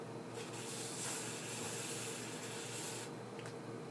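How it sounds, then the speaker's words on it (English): A continuous aerosol hiss of hairspray, close to the mic, with a brief pause midway before spraying resumes. "I'm gonna spray with hair spray"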